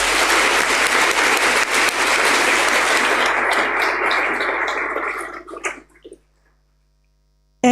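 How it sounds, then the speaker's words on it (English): Large audience at a university first-year welcome address applauding loudly and steadily, a dense wash of clapping that thins out into scattered claps and stops, leaving near silence. "Can you give yourself a better clap?"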